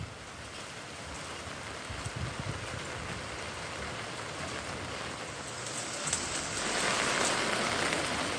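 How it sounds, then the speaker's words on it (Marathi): Continuous rain falls on Mangaon town in Raigad district, a steady, even hiss of drops on wet surfaces that swells slightly toward the end, with no one speaking. "पावसाचा जोर कमी झाला असला तरी संततधार सुरूच आहे"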